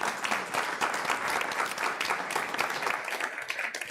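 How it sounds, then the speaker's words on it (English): An audience at a city council meeting applauds for an exceptional softball program receiving an award, a steady wash of clapping filling the room for several seconds without pause. "Can we give them another round of applause?"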